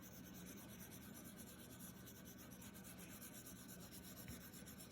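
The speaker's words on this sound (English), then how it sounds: "so I'm using the tip of my pencil" The tip of a pencil shades on paper in a continuous soft, close scratchy rubbing, very quiet and steady, with no speech.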